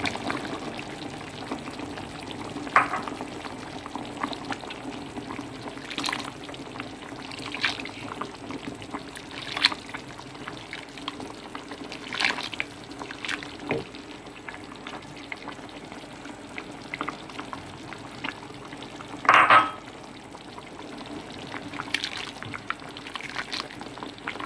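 Gulai cancang curry broth with potatoes simmering in a pot, a quiet steady bubbling hiss with scattered soft pops and occasional louder spits, a brief sharper burst near nineteen seconds, no voices.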